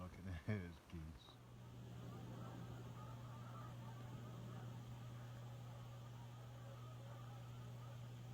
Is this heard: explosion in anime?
no